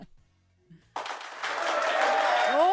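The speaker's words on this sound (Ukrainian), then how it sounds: "я знайшла овації" A studio applause sound effect, played on air, starts abruptly about a second in and builds into a loud, steady wash of clapping and cheering. A rising whistle-like tone sounds toward the end, with a few faint thumps before the clapping begins.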